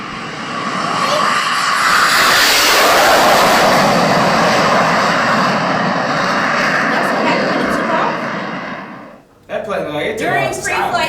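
Learjet engines roar loud and sustained for several seconds with a broad jet rush, fading near the end before a voice cuts in abruptly.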